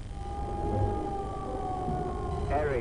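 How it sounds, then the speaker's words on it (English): Air raid sirens wailing over Zagreb, Croatia, during wartime, a loud sustained steady tone with a rising sweep near the end, heard over a low rumbling background. "Air raid sirens sounded again in Zagreb this morning"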